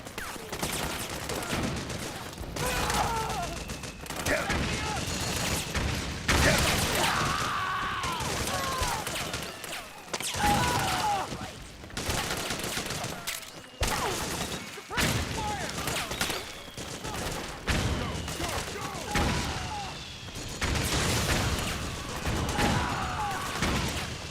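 Sustained gunfire in the video game Metal Gear Solid 4, with dense overlapping bursts and shots running almost continuously through a busy battle din, mixed with crashes and thuds and occasional voices.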